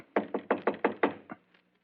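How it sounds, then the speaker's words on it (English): Seven firm knocks on a shop door come in a quick even series, close and clear, with the last knock softer and followed by quiet. "So, just to please you, I will knock on the door."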